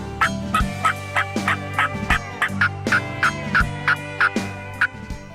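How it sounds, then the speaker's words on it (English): An American wild turkey in Tennessee gobbles over and over in quick rattling bursts, loud and close, about a dozen calls in a steady rhythm. "Turkeys have a language, and everything that a turkey says means something."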